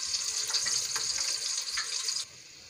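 Small onions frying in a pan until lightly browned, a bright steady sizzle with faint crackles, close and moderately quiet, stopping abruptly near the end.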